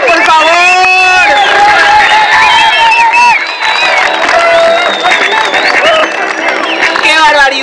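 A loud crowd cheers, whoops and applauds at an urban highline competition, with dense overlapping voices and shouts filling the space close by throughout.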